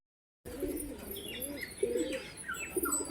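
Pigeons cooing close by, a series of low rolling coos repeated about three times at a steady pace, with faint chirps and light rustling around them and no talk.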